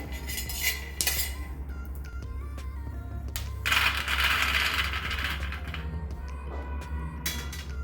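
Roasted peanuts for tilgul ladoo are tipped from a kadhai into a plate, giving a continuous rattling patter of nuts against metal with scraping clinks and a louder shower midway.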